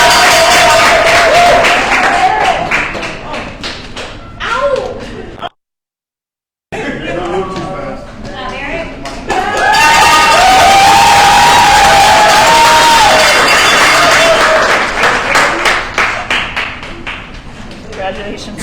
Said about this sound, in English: we'll cheer as loud as we possibly can for these 8 amazing folks